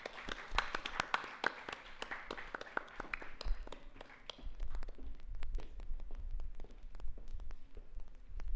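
Scattered audience applause at a hackathon closing ceremony, with sparse individual claps from many hands in a hall that fade into a low murmur.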